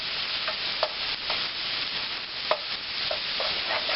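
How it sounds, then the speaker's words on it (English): Garlic fries in a hot pan for a dish of Italian sausage and lentils with chorizo, giving a continuous close sizzle broken by a few light clicks as a utensil stirs it. "I'm going to throw the garlic in there."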